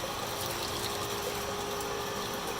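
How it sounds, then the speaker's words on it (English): Brine rushes steadily through a valve from a pump up to a tank on a brine cart, a continuous close hiss of flowing liquid with a faint mechanical hum underneath and no breaks. "now I can just use this valve to control the flow of brine to and from the tank up top"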